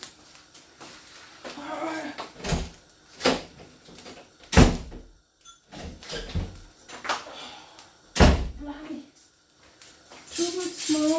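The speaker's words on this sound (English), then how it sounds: "Too smoky. I need to open the doors." Doors are opened to let smoke out of a smoky room, with repeated knocks, thuds and bangs at irregular intervals and a person talking between them.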